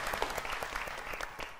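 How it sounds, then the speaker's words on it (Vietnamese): A short burst of clapping from a small group rises and fades within moments, with no talk over it. "Dạ, vỗ tay."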